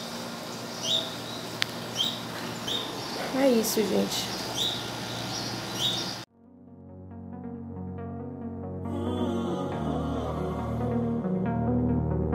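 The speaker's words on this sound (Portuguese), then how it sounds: "Olha o barulhinho do passarinho." Small bird chirps in repeated short, high calls outdoors on a rainy, overcast day, fairly near, over soft background noise, with someone speaking briefly before music takes over.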